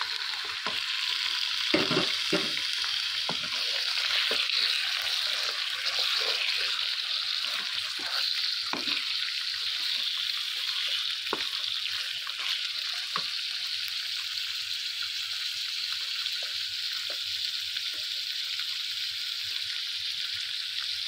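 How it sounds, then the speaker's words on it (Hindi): Chicken sizzling loudly in a karahi pan, a steady frying hiss with stirring scrapes and occasional clanks throughout, close and without talk. "चिकन फ्राई हो गया है"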